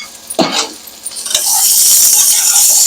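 Marinated ridge gourd tipped into hot oil with onion and green chilli sets off a sudden loud hiss and crackle that swells into a steady, bright sizzle, with a brief clink of a utensil partway through.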